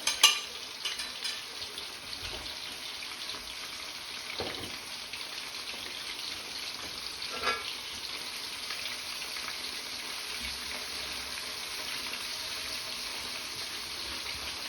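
Beef for crispy chilli beef fries in hot oil with a steady, soft hiss and crackle throughout, a few louder pops and stirring scrapes near the start and middle.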